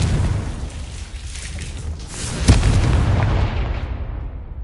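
The Confringo blasting spell goes off in a wizard video game as a rumbling, noisy explosion with a sharp crack in the middle, close and fairly loud against a broad roaring wash.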